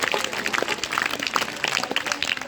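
Dense, steady clapping from an audience at an Arya Samaj gurukul gathering in Dhiranwas, Hisar, applauding a swami; it carries on without a break for the whole stretch, loud and close.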